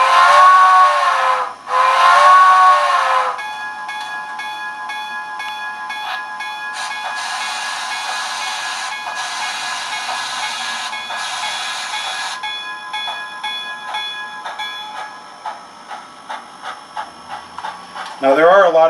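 A model steam locomotive fitted with a Soundtraxx Tsunami 2 steam sound decoder sounds two loud whistle blasts, then settles into steady hissing steam with a bell-like ringing, ending with rhythmic chuffing and another whistle up close.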